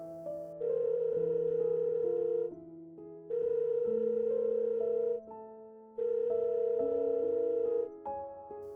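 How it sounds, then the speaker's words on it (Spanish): A phone rings inside a house at 3 a.m., sounding as a melodic electronic ringtone in three long, steady bursts separated by short gaps, clear and alone with no voices. "su teléfono comenzó a sonar"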